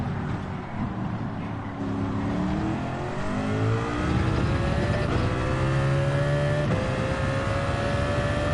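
A racing game car at Monza screams near the rev limiter, its engine note climbing and holding steady in loud, continuous sweeps with no talking.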